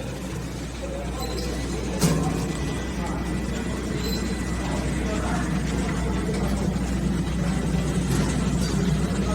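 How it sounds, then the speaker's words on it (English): An HY-175 automatic screen printing machine runs with a steady low mechanical hum and faint rhythmic clatter, continuous and fairly close, with a voice speaking over it. "Now the screen printing is starting."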